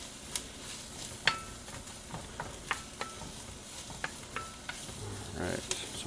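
Heaps of onions frying in a chili pot give a steady close sizzle, with a spoon scraping and clacking against the pot at irregular intervals throughout.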